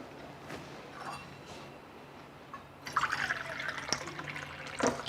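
Water pours into a cooking pot while a dish is being made, a soft liquid splash that starts quietly, swells in two or three gushes in the second half and stays close and fairly faint, with no talk over it.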